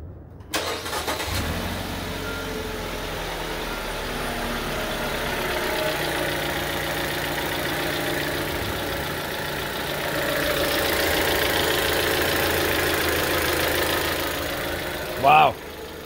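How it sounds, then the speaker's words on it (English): After an AMSOIL oil flush, a car engine cranks and catches, then settles into a steady, even idle that swells slightly before a brief louder bump near the end. "So you're ready to go ahead and start her up."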